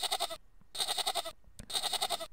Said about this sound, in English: So this is a goat,